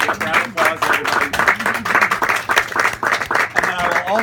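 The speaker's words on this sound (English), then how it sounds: "Round of applause, everybody" Applause and clapping from a crowd at a wedding-style speech, a dense steady patter of many hands filling the room alongside overlapping voices and cheering.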